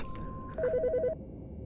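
A telephone rings in the Autopsy Simulator video game, a single short burst of rapid electronic trilling tones, clear and close against a quiet hum.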